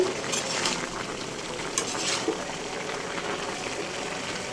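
Mixed vegetables with dried fish stir-frying in a pan, making a continuous close sizzle and bubbling, with occasional scraping of a utensil against the pan.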